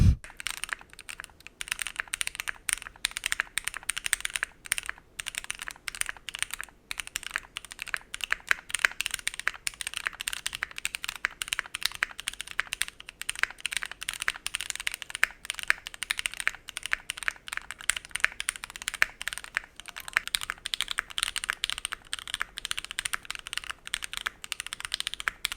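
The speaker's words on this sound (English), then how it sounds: "I removed the plate foam and tested the keyboard" Steady, fast typing on a mechanical keyboard with its plate foam removed, each keystroke a crisp, slightly hollow clack in a continuous close-up stream with no talking.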